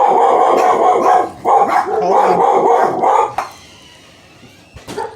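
A dog barks repeatedly and loudly at close range in quick bursts, then falls quiet before a final short yip.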